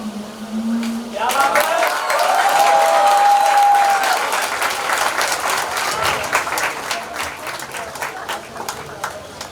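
Audience applause at a film festival event, broad and loud clapping from a crowd that swells after a brief sung tone, then tapers into scattered claps under a little chatter.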